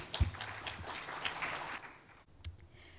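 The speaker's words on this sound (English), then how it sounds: "A big round of applause for their effort and hard work." Faint applause from an audience at an Ayurveda congress, a soft spread of clapping that thins out after a couple of seconds, with a single sharp knock near the end.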